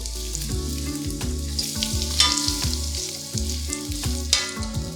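Crispy Korean vegetable pancakes (yachaejeon) sizzle and crackle in an oiled pan right after flipping, a close, busy frying hiss broken by a series of sharp spatters and pops.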